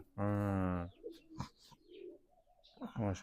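Pigeons coo nearby: a steady low cooing burst opens the clip, then scattered rustling and soft calls follow, with another brief coo at the end.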